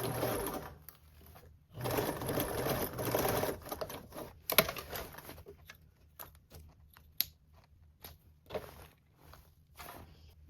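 A sewing machine bastes a Belmont Luxe bag with a 1/8 seam allowance, running in two short close bursts, then scattered light clicks and handling taps.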